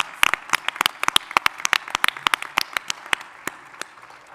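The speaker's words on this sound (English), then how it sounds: "Let's give them a round of applause." Scattered applause from a conference audience, a modest number of hands clapping in loose, uneven bursts rather than a dense roar, fairly close and gradually thinning toward the end.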